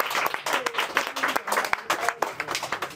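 An audience at a boxing event applauds a kickboxer from a fight academy as he is introduced; scattered, sharp claps in an echoing hall with a few voices over them.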